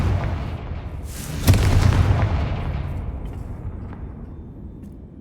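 A Confringo blasting spell detonates in Hogwarts Legacy, one loud sharp boom followed by a long rumbling tail that fades away over several seconds, with no voices.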